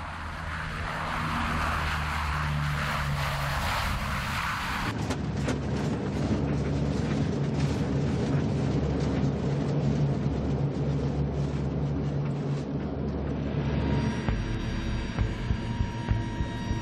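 Hercules transport plane landing on an Antarctic ice runway, with a loud continuous engine drone and propeller hum that stays heavy throughout and shifts in tone partway through.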